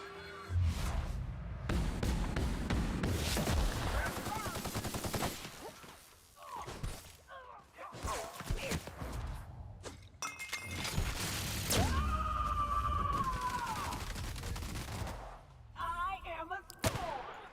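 Repeated gunfire and impacts from combat in the video game The Outer Worlds, loud bursts mixed with game effects and music, with someone talking over parts of it.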